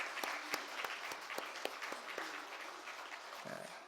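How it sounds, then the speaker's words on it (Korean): A congregation claps together during a Christmas thanksgiving church service, a few sharp, separate claps standing out over a softer spread of applause that fades after a few seconds. "크게 하나님 앞에 영광의 박수를 돌리겠습니다"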